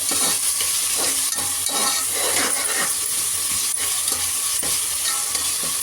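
Onions and tomatoes sauté in a pan for a chickpea curry, giving a continuous loud sizzle with repeated scraping stir strokes at a fairly regular rhythm and no talking.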